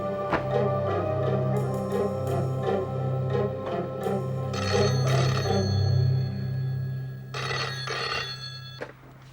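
A telephone bell rings repeatedly in a tense police-drama scene, a steady trilling ring near and loud over a low hum and music, with no voices.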